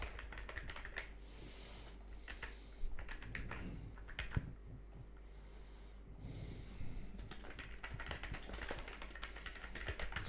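Typing on a computer keyboard while entering a password into a registration form, heard as a steady run of soft, close key clicks with a few louder taps and a low background hum.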